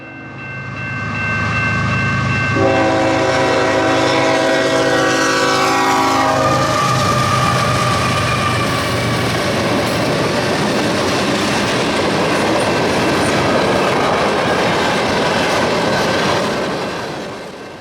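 A freight train led by two Dash 8 diesel locomotives rumbles past close by in Winnipeg, with a loud diesel engine roar, a blaring horn, and steady clattering wheels that fill the scene.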